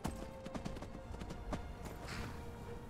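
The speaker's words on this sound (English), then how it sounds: "Is this as fast as my horse can go?" Horse hooves clip-clop in Skyrim Anniversary Edition, an overloaded mount plodding in a steady, close, rhythmic series of hoof strikes with no talk over them.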